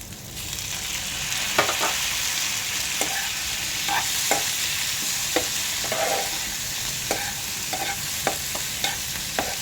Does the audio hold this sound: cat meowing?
no